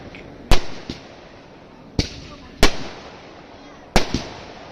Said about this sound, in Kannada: ಪಟಾಕಿ ಹೊಡಿಸ್ತಾ ಇದ್ದಾರೆ